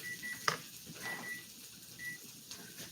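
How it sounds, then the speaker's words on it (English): Faint electronic beeps from a kitchen timer chirp intermittently at low level, a few short tones spaced apart against quiet room noise. "All right, that's the timer."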